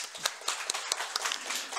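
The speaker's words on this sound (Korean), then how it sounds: "우리 박수로 격려하겠습니다." A church congregation claps at a Sunday morning service, a brief patter of hand claps that is fairly close and fairly uneven.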